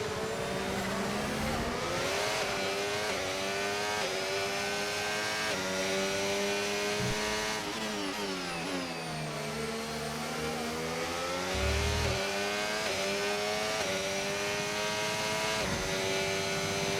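Whining race car engine from the F1 25 video game, revving up and down through gear changes as the car brakes into corners and accelerates out, loud and continuous with no talking.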